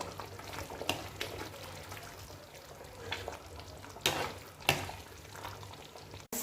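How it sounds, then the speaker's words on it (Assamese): Bahu fish curry (rezala) simmering in a pot, a soft steady bubbling and hiss at low level with a few louder pops and clinks. "মাছ দিয়া হৈ গ'ল, এয়া এতিয়া উতলি আছে পক পককৈ।"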